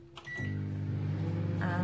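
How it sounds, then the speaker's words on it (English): A microwave oven melting butter and chocolate starts with a click and beep, then settles into a steady, close electrical hum that continues to the end. "I'm going to shove it in the microwave behind you, because it needs to be melted."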